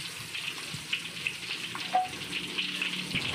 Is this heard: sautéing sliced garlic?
yes